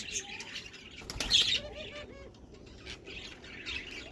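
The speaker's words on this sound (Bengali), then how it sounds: "এই একটা যেই দিছি সেই ডাকাডাকি শুরু করতেছে ও এখন উড়াউড়ি করে বাসার খোঁজ করতেছে" Pet budgerigar, a young semi-adult male, gives short squawks and chirps at close range while its wings flap briefly in a loud burst partway through.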